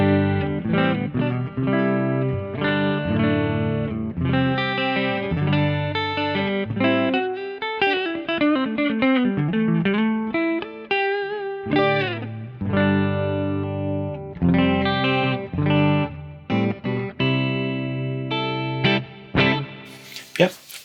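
An electric guitar plays chords and runs through a GFI System Enieqma stereo effects processor with stereo expander, dimensional expansion, chorus and distortion, sounding wide and shimmering, loud and continuous, ending with a sharp burst.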